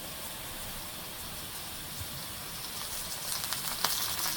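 Cauliflower stalks hit hot frying oil and set off a steady, even sizzle, a dense hiss that runs the whole time and grows slightly livelier near the end, with no talking.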